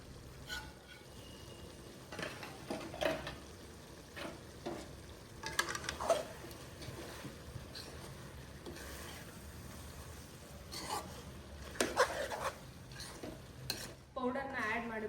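Steady stirring of pepper dry in a pan after roasted spice powder goes in, with soft scraping strokes over a faint sizzle, quiet and close, occasionally punctuated by sharper utensil knocks.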